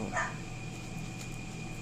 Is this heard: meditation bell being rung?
no